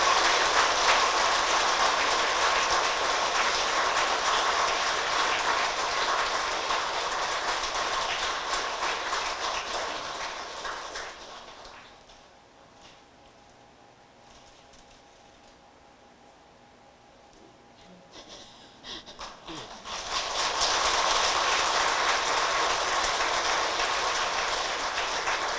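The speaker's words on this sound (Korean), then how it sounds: "큰 박수 부탁드립니다" Audience applause fills a hall at a Buddhist inaugural dharma ceremony for a Seoul Gangnam temple association: a long, dense burst of clapping fades to a quiet lull, then a second strong round of clapping swells back.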